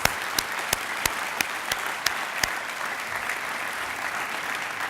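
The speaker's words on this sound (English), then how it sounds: "Let's give them all an applause." An audience at a State of the District address applauds recognized elected officials. Steady, close clapping fills the room, with a few sharp individual claps standing out early on.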